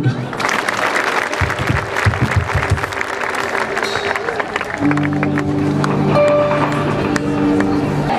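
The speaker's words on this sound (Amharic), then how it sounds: "አጨብጭቡ" A church congregation at a revival service in Debrezeit, Ethiopia, claps steadily together, a dense continuous patter of many hands with crowd noise and voices mixed in underneath.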